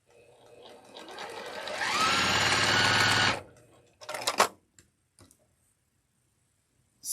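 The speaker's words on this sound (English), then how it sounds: "And then you're going to sew right across the widest part." A sewing machine stitches across a fabric piece for a Dresden sunflower quilt block, running up to a steady whir for about three seconds, then stopping, followed by a few short bursts of stitching and quiet.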